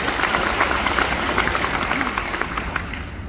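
A church congregation at a Christmas sermon applauding together, a dense, fairly close wash of clapping that holds steady and fades slightly at the end.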